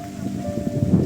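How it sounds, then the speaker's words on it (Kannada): Heavy rain pours steadily in a foggy hill setting near Ujire, a dense close hiss with no voices. "ಮಳೆ ಬರ್ತಾ ಉಂಟು, ತುಂಬಾ ಮಳೆ ಬರುತ್ತುಂಟು."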